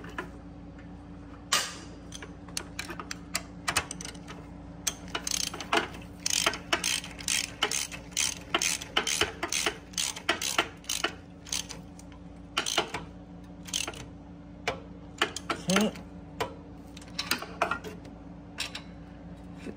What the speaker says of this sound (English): So we're gonna take our 13 millimeter ratchet and we are going to go ahead and get that onto the bolt.